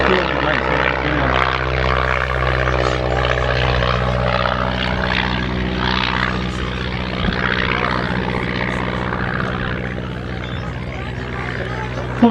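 A propeller aircraft drones steadily overhead while flying a figure of eight at an airshow over a grass airfield, its engine loud and continuous.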